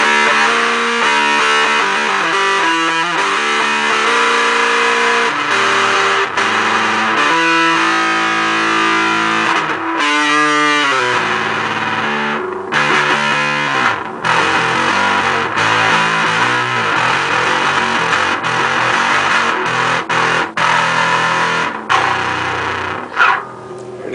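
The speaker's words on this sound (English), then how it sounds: "This is with everything dimed, except the volume. Makes a great sort of distortion lead sound." Bass guitar played through an Electro Harmonix Bass Big Muff Pi distortion pedal with all controls maxed except volume, giving a loud, thick, fuzzy lead tone as a continuous riff of sustained and shifting notes with no talking.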